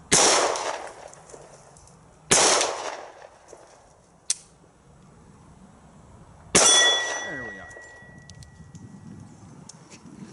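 Three loud, sharp gunshots from a Citadel Compact 1911 .45 ACP pistol at an outdoor range, a few seconds apart, each decaying with a ringing echo, plus a metallic clang of a steel target.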